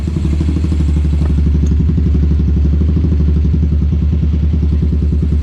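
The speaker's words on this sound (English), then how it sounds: "Now I don't have the airbox on, so it's running a little wonky, but fires right up." A motorcycle engine, just back from a carburetor clean and running without its airbox, idles loudly close by with a rapid, slightly uneven thumping beat and no voices.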